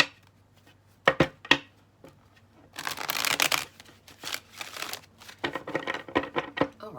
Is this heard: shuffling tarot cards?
yes